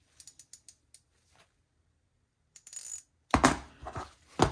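Vintage Snap-On Ferret F-70N and Proto 4749 ratchets being turned by hand in a quiet workshop, giving a few sparse mechanical clicks followed by a brief fast ratcheting burst and louder clattering handling noise near the end.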